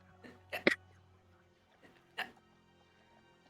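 A person hiccups in a few sharp, abrupt bursts, two close together and one a moment later, fairly close in a quiet room.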